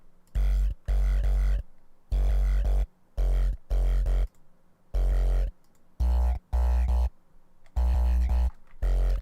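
A sub bass patch in an FL Studio track plays about a dozen chopped, deep notes in a syncopated rhythm, with abrupt stops and short silences between them. The tone is loud and boomy with some buzzy upper harmonics.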